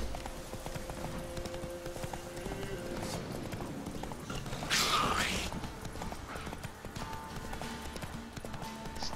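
Horse hooves clip-clop at a steady walking rhythm in The Witcher 3, with a brief whinny partway through, set against game music and ambient sound.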